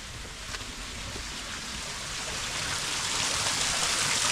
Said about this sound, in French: C'est la cascade.